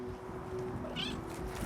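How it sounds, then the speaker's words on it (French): One of two pet cats, Bounty or Charlie, gives a single short meow partway through, faint against a steady low hum in a home in Strépy-Bracquegnies, Hainaut. "C'est là qu'habitent Anne-Catherine et ses 2 chats, Bounty et Charlie"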